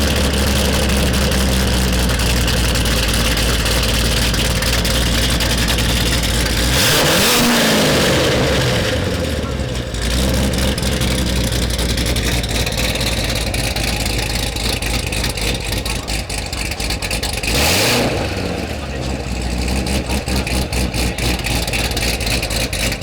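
Supercharged 2019 Corvette Grand Sport Z51 with titanium headers and a full American Racing exhaust without a resonator, loud and close, idling with a deep rumble and revved hard twice, each rev climbing and falling back to idle.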